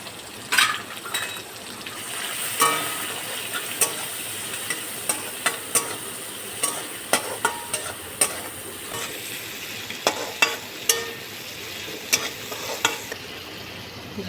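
Prawns sizzling in a pan with greens while being stirred, a steady soft fry hiss broken by frequent light clinks and scrapes of a utensil against the pan.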